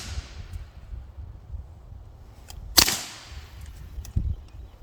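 A single sharp, suppressed pistol shot cracks close by against a quiet outdoor background, followed by a fainter second impact moments later.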